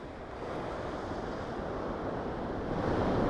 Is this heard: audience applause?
no